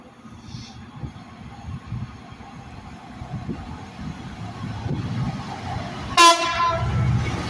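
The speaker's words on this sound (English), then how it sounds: "Here comes A66 on a GBR freight service to Felixstowe." A Class 66 diesel locomotive hauling a GBR freight train toward Felixstowe rumbles in and grows louder, then sounds a single loud, short blast of its horn near the end.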